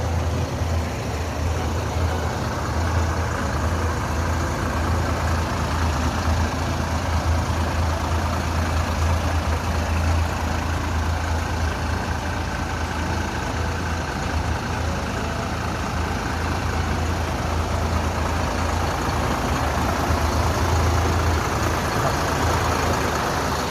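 A heavy Hino RN 285 diesel bus engine idles steadily with a deep, constant rumble, close by and unchanging throughout.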